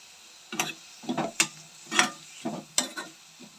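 Jackfruit coated in turmeric and oil is stirred in a pan, the spoon scraping in about seven short, uneven strokes with a faint sizzle between them, close and fairly quiet with no voices.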